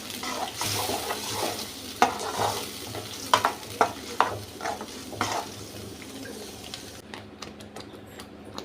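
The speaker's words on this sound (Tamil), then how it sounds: "இப்போ அரைச்ச விழுது இதில் கொட்டி வதக்கலாம்" Ground masala paste is sautéed in a pan for paneer butter masala, after cinnamon pieces were tempered in it. It gives a steady, soft sizzle close by, broken by scattered sharp clicks and scrapes of the stirring spoon.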